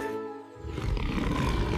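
A T-Rex in a 3D cartoon animation lets out a loud, deep, rumbling roar that swells in after a brief lead-in and holds strong to the end, with no talking over it.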